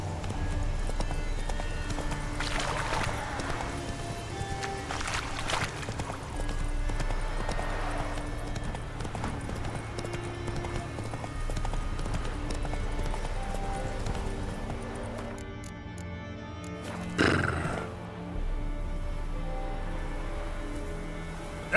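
Roach the horse galloping in The Witcher 3, a steady clip-clop of hooves running on through a busy game soundscape with a brief louder burst near the end.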